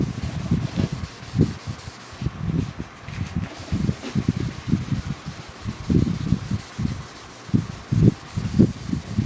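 Someone hand-polishes a 2004–2006 Pontiac GTO headlight with close, uneven rubbing and sanding strokes that scrub in quick irregular passes.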